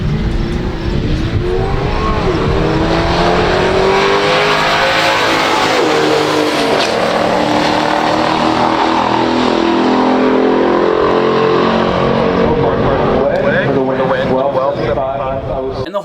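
A 1971 Plymouth Duster 340 and a 1971 AMC Hornet SC/360 race side by side in a pure stock drag race, their V8 engines roaring loud and continuous at full throttle as the pitch climbs through the gears, with a commentator talking over the noise.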